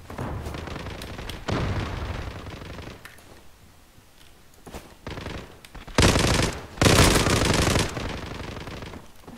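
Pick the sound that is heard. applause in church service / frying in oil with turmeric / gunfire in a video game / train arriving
gunfire in a video game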